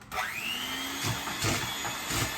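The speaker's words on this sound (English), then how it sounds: "I've got sugar here and I'm going to whisk in that 4 eggs" An electric mixer whisks four eggs with sugar for brownie batter, a steady close motorized whir rising in pitch as it spins up, with rhythmic thumps of the beaters against the bowl.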